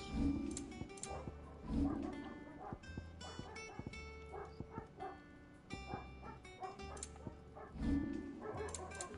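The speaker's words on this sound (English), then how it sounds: "Noisy dog." A dog in the video game Final Fantasy XVI barks in repeated bursts over busy game music and effects, at moderate loudness.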